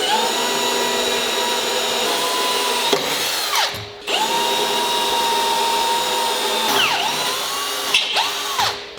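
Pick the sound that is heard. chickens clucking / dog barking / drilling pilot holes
drilling pilot holes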